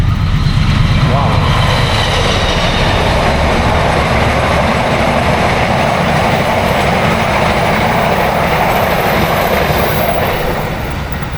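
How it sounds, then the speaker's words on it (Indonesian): A train rolls past on mountain railway tracks, a loud, sustained roar of wheels and carriages with rhythmic rattling that holds steady and fades slightly at the end, with people talking faintly beneath it. "ada kereta lagi kebetulan"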